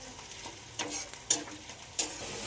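Spice paste with yogurt sizzles softly in oil in a home kitchen while a spoon scrapes and stirs it, giving several brief clinks over a steady low frying hiss.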